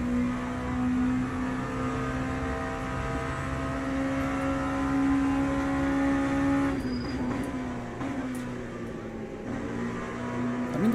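An LMP2 prototype race car engine drones steadily at Monza in a racing video game, a loud, sustained whine that holds pitch before shifting down near the end.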